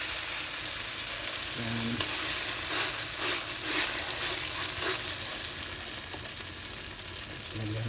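Eggplant omelette frying in a pan, a continuous close sizzle with occasional crackles and pops, while a voice speaks briefly.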